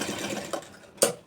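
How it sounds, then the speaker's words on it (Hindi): A sewing machine stitching a palazzo pant runs in a brief close whirring burst, with a sharp click near the end. "इस तरह हमने सिलाई लगाया"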